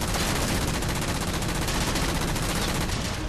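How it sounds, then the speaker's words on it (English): Loud, dense gunfire from a rail gun in a space-ship shooter video game, a steady unbroken roar of shots running through the whole clip. "No, that's a rail gun."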